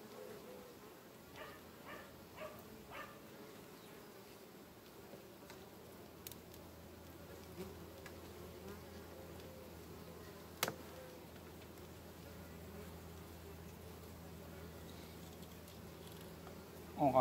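Honeybees at a hive in September, a faint steady buzzing drone with scattered brief ticks and taps from handling the frames, no speech.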